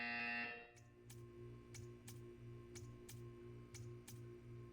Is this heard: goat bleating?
no